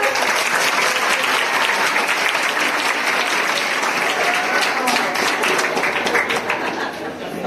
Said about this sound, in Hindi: आपकी तालियां बता रही हैं